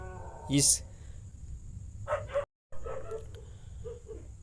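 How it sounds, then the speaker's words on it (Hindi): A stray street dog barks at night outside a house, one short sharp bark standing out near the start, with scattered softer sounds after a brief gap. "थोड़ा सा डिस्टरबेंस है कि आवारा कुत्ता से जो होता है गली का, ये बहुत ज़्यादा बोलता रहता है"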